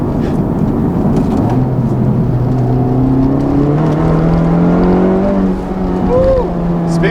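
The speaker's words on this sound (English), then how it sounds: "I got some nice spin there from the right wheel" A 2019 Honda Civic Type R with a Borla exhaust accelerates hard from inside the cabin, its engine note rising steadily in pitch through the gears as a loud, continuous roar.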